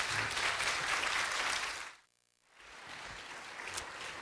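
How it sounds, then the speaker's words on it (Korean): A standing church congregation applauds warmly in a loud, dense wash of clapping that drops away briefly to near silence, then picks up again at a slightly lower level. "모두 기립하셔서 뜨거운 박수로 격려해 주시기"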